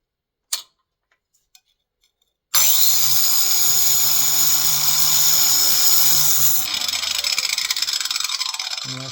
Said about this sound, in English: Best to grind it all the way around